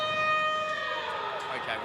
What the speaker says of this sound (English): There is the siren.